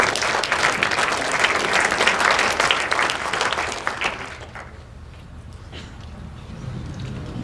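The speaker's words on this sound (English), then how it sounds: "You are free to applaud" Audience applause at an alumni weekend lecture, a full, dense burst of clapping for about four seconds that then quickly dies away to scattered claps.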